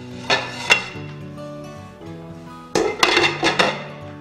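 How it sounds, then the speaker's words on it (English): A lid is set onto a slow cooker in a home kitchen during a bone-in brisket recipe, giving two light clinks followed by a louder cluster of metallic and ceramic knocks and rattles, close and clear with no talking. "And then we'll cover the slow cooker."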